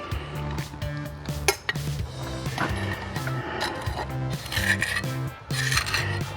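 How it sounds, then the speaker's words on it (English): Mortar is pressed and scraped into cut-out joints around an old window in a French chateau salon, giving repeated gritty rasping and tool scrapes, close and moderately loud, over a rhythmic tonal background. "Now I'm going to start putting the mortar in to the joints that I've cut out"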